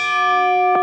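A single ringing bell tone sustains with rich, lingering harmonics, loud and clear, with a brief soft knock near the end.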